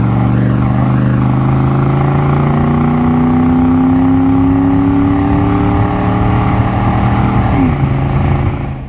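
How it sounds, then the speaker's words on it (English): A 1986 Chevrolet Camaro IROC-Z with the TPI 5.0 engine accelerates under throttle on the road, a loud, steady engine drone rising slowly in pitch before a brief dip near the end, heard close up from inside the car. "We're gonna go ahead and roll into the throttle here and just leave the chase car."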